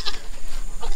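A short goat bleat rings out near the start over a steady background hiss, with a fainter second bleat near the end.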